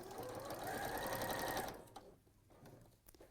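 A sewing machine runs steadily for about a second and a half while stitching fabric pieces, here a long side of a chimney piece with wadding, then stops, leaving faint handling clicks; close and fairly loud, no talking.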